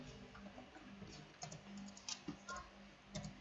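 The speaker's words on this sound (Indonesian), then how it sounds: "Lalu kita ketik scriptnya" A computer keyboard clicks softly and sparsely as code is entered, irregular light taps clustering in small bursts against a quiet background hum.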